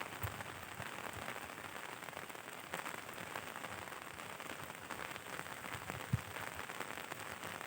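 Rain falls steadily onto a surface with a constant, soft patter. A few sharper drops or taps stand out over the continuous wash, faint and without talk.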